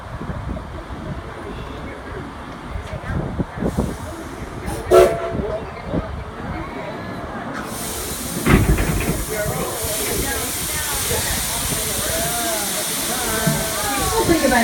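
Heritage steam train of the Weiser Railroad leaving a station at Greenfield Village, with a steady rumble and hiss inside the passenger car, a few sharp clanks and a louder burst partway through, and faint voices.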